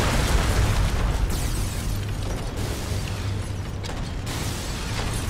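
A bomb explodes in the Darksiders video game amid loud, dense, rumbling game noise with scattered pops and mechanical clanks that run steadily throughout.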